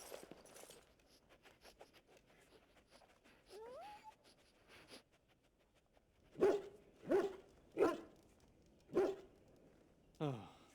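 A hound in the video game Dragon Age: Origins whimpers softly, then lets out a run of five sharp, loud barks at close range, with quieter rustling and shuffling in the gaps between them.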